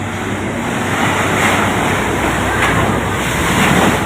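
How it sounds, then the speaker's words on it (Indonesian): Rough, storm-driven sea waves crash along Indonesia's south coast during high-wave weather, a loud continuous roar of surf with wind buffeting the microphone and a faint steady whine underneath, no voices. "laut pantai selatan ya yang lagi ngamuk ya"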